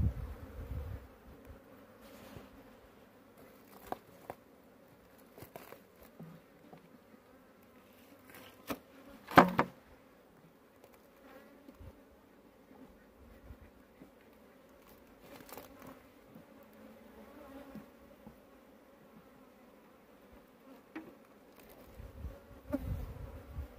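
Bees hum quietly and steadily during a wild hive transfer on a farm, a faint low drone with scattered taps, knocks and handling noises, no speech.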